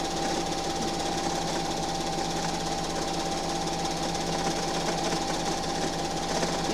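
A sewing machine quilts a t-shirt quilt without stabilizer, its needle running in a fast, even mechanical hum and chatter, close and continuous with no talk.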